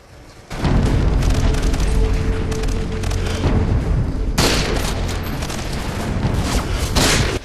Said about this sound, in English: That's the sound of the juggernaut to let you know that they're here.